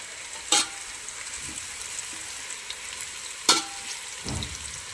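Whole spices hit hot oil for a Gujarati fajeto tempering, giving a sharp sizzle burst near the start and another later, over a low steady frying hiss.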